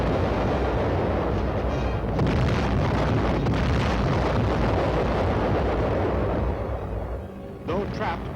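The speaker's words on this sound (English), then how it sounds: "Our artillery went into action." Artillery fire from World War II footage booms as a dense, continuous barrage of blasts and rumble, loud and close for most of the stretch before a brief lull.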